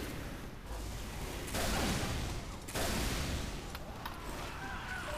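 The Direct Hit rocket launcher in Team Fortress 2 fires amid continuous game noise, with two heavier booming blasts standing out near the middle and no clear talking.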